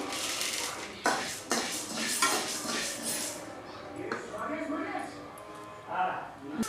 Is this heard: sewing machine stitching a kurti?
no